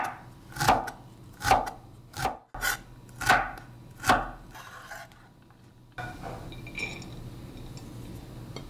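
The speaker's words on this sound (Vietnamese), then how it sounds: "Xong rồi mình cắt nhỏ lại để dễ trộn vô cơm nè." A knife chops shredded carrot on a cutting board in about six close, distinct strikes at an uneven pace, followed by quieter handling noise.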